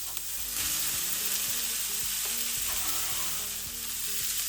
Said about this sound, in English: I will add to this the carrots and cabbage.